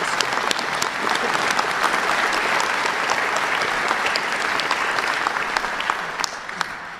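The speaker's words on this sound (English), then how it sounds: "Please give him a round of applause." A large audience at a speech about gun violence prevention funding applauds loudly and steadily, a dense wash of clapping that fades slightly near the end.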